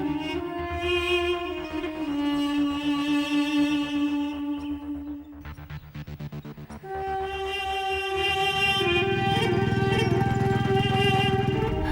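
Motorcycle engine revving and pulling away in the foreground, a steady loud drone that dips briefly midway then surges and rises again, with no talk over it.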